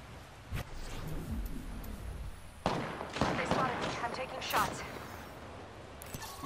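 Gunfire in Apex Legends, sharp shots and bursts scattered irregularly against a noisy game background, with voices speaking at times.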